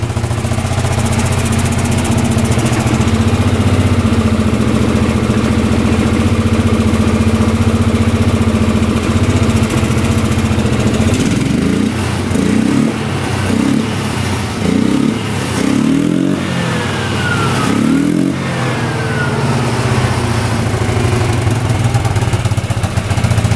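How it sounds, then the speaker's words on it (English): A smoking ATV engine, already running for about ten minutes, holds a steady loud idle, then pulses through a series of short rhythmic revs before settling back to its constant idle hum. "Been about 10 minutes, it's still running, idling perfect"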